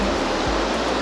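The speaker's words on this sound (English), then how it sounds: "these waves are just nice and chill" Steady rushing water from a hotel wave pool at Mandalay Bay in Las Vegas, a loud broadband wash of surf with faint low thumps as waves roll through, with no talking.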